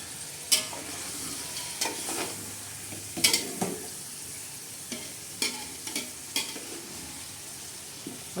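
A spoon stirs chicken biryani masala paste of ginger, green chilies, tomato, onion and cumin as it fries in a pan: a continuous low sizzle broken by a dozen sharp, irregular scrapes and knocks, close up.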